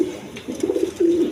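Big silver pigeons cooing in a loft, soft low throaty coos repeating in short bursts close by, with no talking over them.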